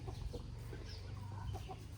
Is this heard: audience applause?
no